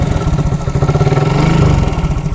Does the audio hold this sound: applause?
no